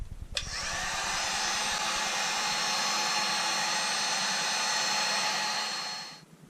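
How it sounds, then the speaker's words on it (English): A heat gun blows steadily to dry fiberglass in a boat bilge, a loud, even whirring hiss that starts with a click and runs for about six seconds before spinning down. "I do want to use the air gun on it, the heat gun on it, just for a few seconds"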